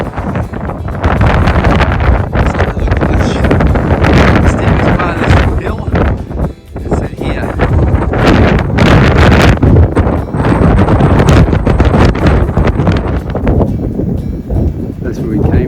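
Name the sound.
wind blowing on mountain trail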